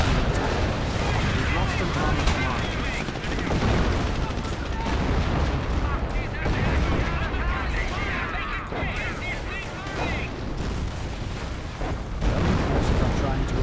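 A sustained artillery barrage in the World War II strategy game Company of Heroes during a 4v4 match, rolling booms mixed with gunfire and machine-gun bursts forming a loud, unbroken wall of battle noise.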